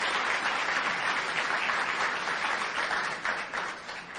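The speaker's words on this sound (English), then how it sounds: "a round of applause for those nominees for their accomplishments this year" A crowd at a student athlete awards banquet applauds in a dense, steady wash of clapping that fades slightly toward the end, with no speech over it.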